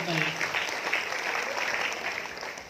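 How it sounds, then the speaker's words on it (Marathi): An audience at a Dalit Mahasangh anniversary gathering in Kolhapur claps in sustained, dense applause for the full stretch, fairly loud, as at a public speech. "टाळ्या वाजवून कौतुक करायला काय हरकत नाही"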